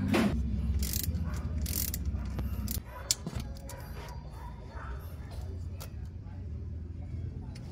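A ratchet or 10mm wrench clicks against a bolt on an NWOW ERV S2 e-bike during an oil change, short mechanical ticks and turns scattered over steady low background hum, fairly close.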